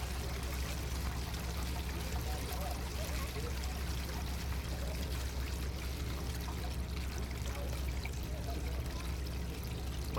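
An RV holding tank draining through a clear elbow fitting on the dump hose: a steady, continuous rushing pour of liquid that stays loud and even throughout, with no talking.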